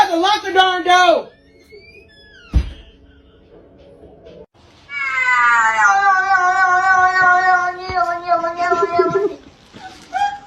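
A house cat yowls in long, wavering meows, a short burst at the start and a sustained, insistent caterwaul through the middle, loud and close, with a sharp knock between and people talking around it.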